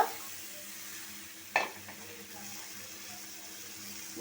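Ash gourd being added to a cooked-down spice paste for a prawn fry, heard as a quiet, steady sizzle and hiss with one sharp clatter of the pan or spoon partway through.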